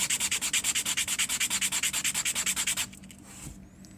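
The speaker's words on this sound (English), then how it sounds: "I'm going to sand it down flat." A sanding block is rubbed back and forth on a Titanic wreck model part in quick, even strokes, about eight per second, close and crisp, then stops, leaving faint handling sounds.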